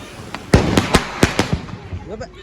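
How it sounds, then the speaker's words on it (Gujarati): Diwali firecracker bombs burst close by in a rapid, irregular string of about half a dozen sharp, loud cracks, with a brief voice trailing after. "એ તો ખેગારજી વાળો બોમ્બ"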